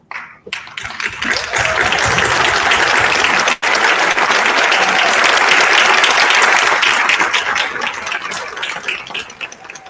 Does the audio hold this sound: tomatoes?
no